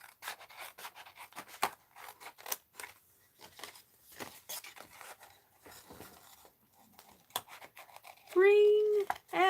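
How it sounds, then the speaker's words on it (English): Scissors snip out a paper shape for an art journal, giving a string of crisp, irregular close cuts and rustles under intermittent talk, followed by a short squeaky tonal sound near the end. "Let's kind of cut this out here"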